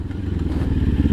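A Kawasaki Ninja 400 fitted with a Fuse Racing aftermarket exhaust passes by at a gentle cruise in sixth gear, giving a close, steady, loud low burble with rapid pulsing firing beats.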